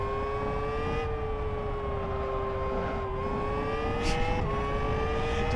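A race car in the Live for Speed video game gives a steady, high engine whine that holds loud and continuous, shifting pitch slightly as gears change on the track, with no talk.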